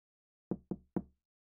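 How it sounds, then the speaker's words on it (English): Three sharp knocks on a door, evenly spaced and quick, close and isolated against silence with no talking. "He usually answers the door when I knock."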